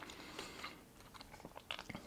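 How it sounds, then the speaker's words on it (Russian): Biting and chewing a sweet bun, close and quiet: soft crunchy bites and moist chewing in irregular bursts, with no talk. "По классике надо откусить кусочек плюшечки и запить горячим шоколадом."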